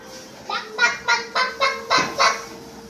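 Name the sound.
child imitating a duck's quack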